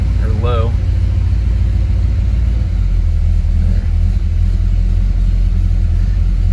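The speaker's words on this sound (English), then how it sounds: "This engine runs so good." An LS3 V8 with a carburetor, destined for a 1970 Chevelle, runs at a steady idle, a loud, close, deep rumble that continues without pause while someone speaks briefly over it near the start.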